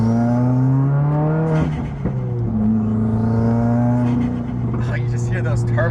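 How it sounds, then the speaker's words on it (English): A Subaru WRX with a turbo engine pulls hard, its drone climbing in pitch through the gears with intake whoosh and turbo flutter between shifts, heard from inside the car under steady conversation. "you just hear those turbo flutters"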